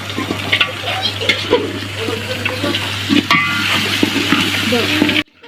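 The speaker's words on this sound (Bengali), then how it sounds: "আমি সবজিগুলো সব দিয়ে দিতেছি" Vegetables are tipped into a hot frying pot for vegetable khichuri at a rooftop picnic and stirred. A steady loud sizzle runs under scraping spoon clatter, then cuts off abruptly near the end.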